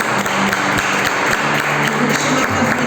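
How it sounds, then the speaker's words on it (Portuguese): A church congregation applauds during a service, with continuous clapping and crowd noise and some steady tones from the sound system underneath. "Aplausos, Senhor"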